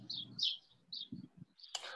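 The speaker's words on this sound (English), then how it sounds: "I like the birds perching and the chirping in the background, Dan." Small birds chirp outdoors in short high tweets, several bursts scattered over two seconds, fairly faint behind a quiet room with low murmuring and a brief rustle near the end.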